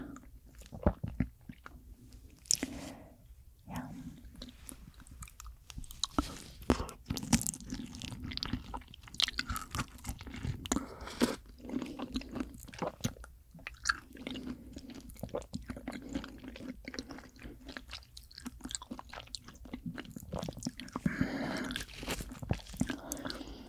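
A giant rock oyster dipped in chojang is chewed up close: soft wet squishing bites and steady mastication continue throughout, intimate and quiet, with brief pauses.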